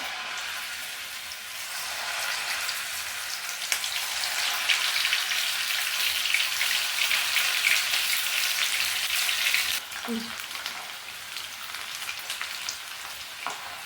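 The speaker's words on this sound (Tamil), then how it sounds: "அப்புறம் பொரிச்சு எடுத்துக்கலாம்." Snake gourd chilli pieces fry in hot oil with a steady, loud, dense sizzle that continues throughout, easing slightly near the end; no voices.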